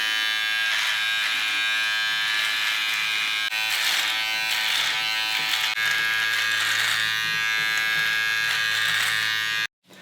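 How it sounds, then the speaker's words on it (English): An electric beard trimmer buzzes steadily and loudly up close while trimming the cheeks and chin, a continuous drone that shifts slightly as it moves, then cuts off abruptly near the end. "you're going to start trimming down your cheeks and your chin"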